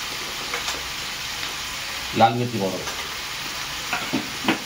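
Spices being stirred into cabbage rice frying in a pan, a steady close sizzle with scraping stir strokes, a brief voice rising over it midway.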